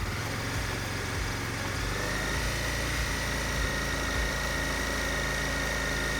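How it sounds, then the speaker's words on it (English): A steady motorcycle engine holds a constant throttle just above idle, a continuous even drone with no revving. "It sounds constant and slightly higher than idling engine"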